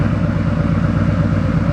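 A Harley-Davidson motorcycle engine idles steadily during a diagnostic check, a loud, close, even low rumble with a fast regular pulse and no voices.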